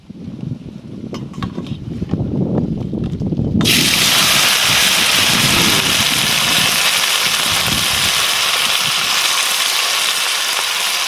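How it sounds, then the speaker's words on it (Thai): Wind roars steadily and loudly outdoors, rising suddenly after a few seconds of quieter rustling and low rumble, then holding as a strong continuous gust. "อาจจะได้ยินเสียงลมแห้งนะครับ"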